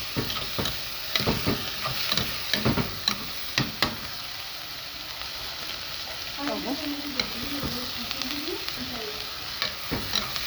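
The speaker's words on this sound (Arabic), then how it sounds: "بنفضل بقى كده نقلب فيها لحد ما تستوي" Peppers fry in a pan and get stirred, a steady soft sizzle broken by sharp utensil scrapes and taps, close by, with a brief voice murmuring partway through.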